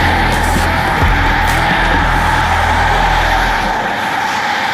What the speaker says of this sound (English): There is so much traffic.